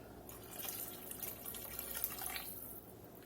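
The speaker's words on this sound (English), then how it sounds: "And we're going to get some water in. A little more water." Water runs and splashes into a pot of hamburger soup with potatoes in a home kitchen, a soft continuous trickle lasting a few seconds.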